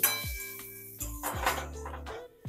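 A metal utensil scrapes and clinks against a pan while stirring fried whole spices, sharp ringing taps with short pauses, close by and quiet otherwise.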